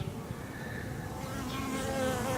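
Honeybees buzz steadily around a New England hive entrance in March as foragers bring in pollen, a close, fairly faint drone with individual bees passing near.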